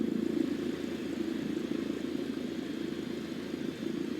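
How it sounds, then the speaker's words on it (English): Airplane engine running at full power for takeoff, a steady, fairly faint mid-pitched drone that holds even throughout, with no voices. "Apply full power and I'll walk you through the takeoff as we go."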